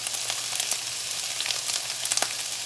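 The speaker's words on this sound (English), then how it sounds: "Oh, you can smell these onions cooking up." Onions for fajitas sizzle in a hot pan, a bright continuous crackle with scattered louder pops, close and alone without talk.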